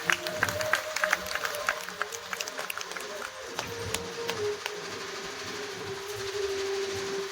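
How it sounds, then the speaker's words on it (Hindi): Audience at a Ram Katha religious storytelling event applauding, with scattered, moderately loud claps spread across the whole stretch over a steady sustained tone and room murmur. "एक बार जोरदार तालियां बजाकर इनका सम्मान बढ़ाएं।"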